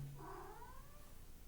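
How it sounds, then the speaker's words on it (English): A house cat gives one drawn-out meow close by, rising then trailing off over about a second, fairly quiet in an otherwise still room. "This is my cat staying here."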